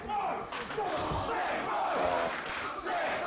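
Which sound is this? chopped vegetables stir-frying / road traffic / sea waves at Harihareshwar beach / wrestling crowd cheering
wrestling crowd cheering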